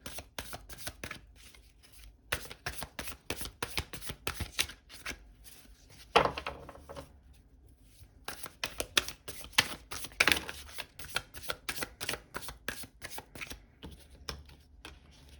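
Tarot cards are shuffled by hand, giving repeated bursts of soft, crisp riffling and flicking with short pauses between them, close and fairly quiet, with no talk.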